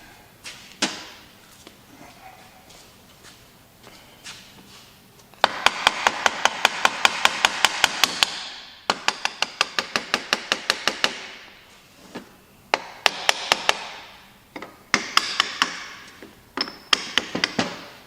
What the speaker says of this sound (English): Grab a little hammer and tap, tap.